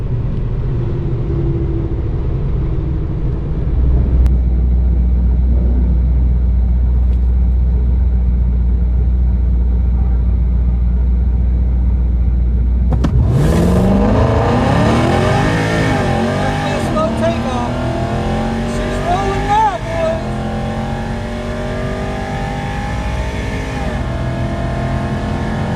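A 2020 Dodge Hellcat Redeye launches on a track, a low idle rumble giving way to a loud rising engine roar with gear-change swoops as it pulls away, a voice talking over it.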